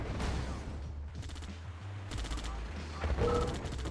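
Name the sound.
tank battle gunfire in Red Alert 2 video game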